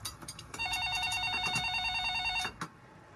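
A telephone rings with a steady electronic trill lasting about two seconds, fairly close, amid faint background knocking.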